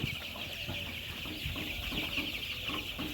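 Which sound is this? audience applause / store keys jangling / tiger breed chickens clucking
tiger breed chickens clucking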